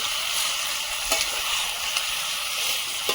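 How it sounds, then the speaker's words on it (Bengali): Poultry meat sautéing and stirred in spiced oil in a pan for a Bengali meat curry, a steady close sizzle with a few brief scraping stir clicks. "এখন মাংসটা দিয়ে দেবো ভালোভাবে কষিয়ে নেব"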